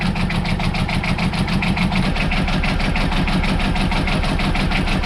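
A sailboat's inboard engine running in gear at the dock, a loud steady low throb with an even rapid pulse that holds unchanged throughout, with no voices over it.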